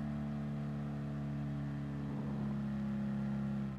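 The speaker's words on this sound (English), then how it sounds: "There's the auto downshift right there." A car's automatic transmission shifts down while climbing a hill, with a steady engine drone whose pitch changes partway through and then keeps going, heard from inside the car at moderate loudness.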